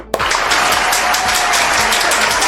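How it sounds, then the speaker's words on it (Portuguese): Loud, dense audience applause bursts in at once and sustains steadily, welcoming a performer at a youth Sunday school lesson in a church. "Recebam com palmas a Sansão!"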